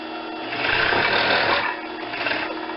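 A sewing machine stitches a half-inch seam in stretchy fabric, a loud, continuous rapid whirring that swells in the middle and runs for nearly three seconds with no talk.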